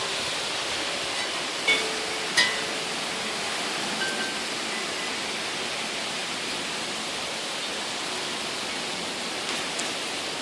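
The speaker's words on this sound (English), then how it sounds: "I can see and hear the rain now." Heavy rain falling outdoors, a steady broadband wash of drops that stays constant and fairly loud throughout, with a couple of brief nearby taps and no voices.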